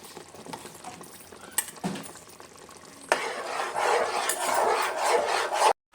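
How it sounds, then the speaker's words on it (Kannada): Egg masala powder frying in a pan, about two tablespoons of homemade spice mix: soft scraping and stirring at first, then a louder steady sizzle that runs for several seconds before cutting off. "ಇವಾಗ ಮಸಾಲ ಫ್ರೈ ಆಗಿದೆ."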